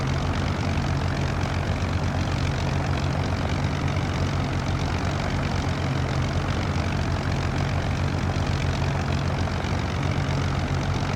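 Hawker Hurricane piston engine in the Prepar3D flight simulator, a steady, droning low-pitched hum that holds an even level from start to finish with no variation or voices.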